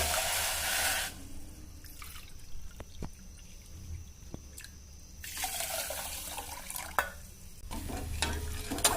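Water is poured into a pan of sugar on a gas stove to make syrup for MTR packet-mix gulab jamun, with splashing, sloshing bursts, brief pauses and a few light clinks.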